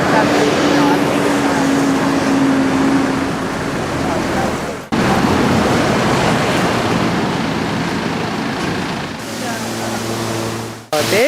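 Loud, continuous rushing water fills the scene nearby in Sri Lanka, a broad steady roar that briefly cuts out partway through and again near the end.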